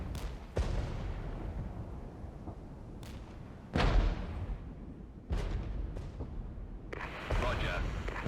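A Scimitar armored vehicle in the Regiments war game fires its gun, several heavy distant booms spaced a second or two apart over a rumbling battlefield bed, with people talking throughout.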